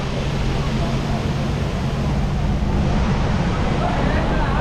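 Many jet skis running near a waterfall on Center Hill Lake, Tennessee, with a steady low engine drone blending into continuous rushing water and wind noise throughout.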